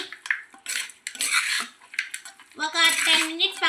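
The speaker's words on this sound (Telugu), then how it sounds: "కారం ఒకసారి మొత్తం ఇలా కలుపుకుందాం ఇలా మొత్తం బాగా కలుపుకొని" Chili powder is mixed into mutton curry in a pan, with bright metallic scraping and clinking of a spoon against the vessel in short, uneven bursts, close and fairly loud.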